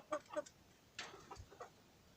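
A frizzle Pekin bantam hen in cuckoo coloring, an extra-dwarf breed, gives a few soft, faint clucks in short bursts with gaps between.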